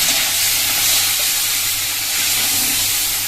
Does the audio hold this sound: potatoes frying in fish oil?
yes